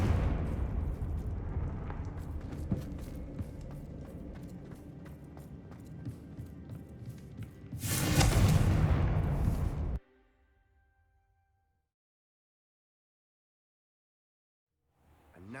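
A Confringo fire spell bursts in Hogwarts Legacy, a loud whooshing blast rising around eight seconds over busy game ambience, then cutting to near silence.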